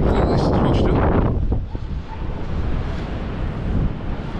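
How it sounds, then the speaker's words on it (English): Stormy wind blasting across a Northumberland beach on the coastal path near Berwick, a loud, rough roar buffeting the microphone with surf rumbling underneath, steady throughout. "It's a storm."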